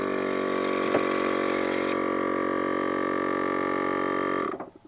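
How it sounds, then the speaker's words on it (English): A Viair portable air compressor with an air-blowing attachment runs with a loud, steady motorized drone and a hiss of air, then winds down abruptly near the end. "I also bought an attachment for it that will shoot out some compressed air."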